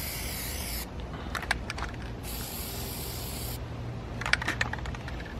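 Spray paint hissing onto a truck's body in short bursts, a few seconds each, with soft rubbing and light tapping between them, close and fairly quiet.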